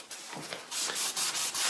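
A Scalextric slot car track is rubbed clean by hand, giving close, dry scrubbing strokes in quick back-and-forth bursts, each a short rasping swish, with no talking.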